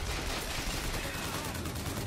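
Rapid crank gun gunfire in the video game Bioshock Infinite, a dense continuous burst of shots filling the whole moment at close, loud level.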